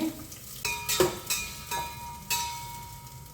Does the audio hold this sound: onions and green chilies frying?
yes